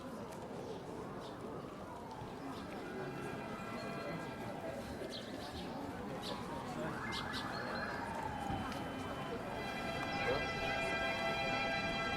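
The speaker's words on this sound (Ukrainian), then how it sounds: "Чутно сирени." Distant wailing sirens rise and fall over a constant crowd murmur and outdoor hum, growing slightly louder toward the end.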